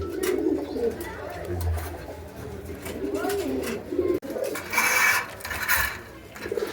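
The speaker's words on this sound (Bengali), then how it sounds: "আমি এই কবুতর বেছে নিলাম" Pigeons in a loft cooing, several soft low rolling coos repeating up close while someone talks over them.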